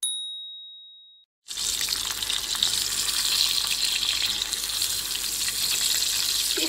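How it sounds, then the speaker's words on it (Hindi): A kebab fries in a pan with a continuous bright sizzle after a short ding and a brief silence, steady and close for the rest of the clip. "इस कबाब को जो है मैं फ्राई कर रही हूँ अभी"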